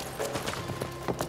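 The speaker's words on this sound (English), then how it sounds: "It's interesting that they still use horses," Horse hooves clip-clop in a quick, steady rhythm, moderately close and without any voices, in Assassin's Creed Mirage.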